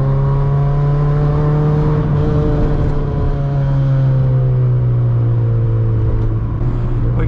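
A Honda Civic EF hatchback drives on a wet rainy road in Connecticut, heard from inside as a loud steady engine drone with shifting harmonic pitch under road and tyre noise, no talk.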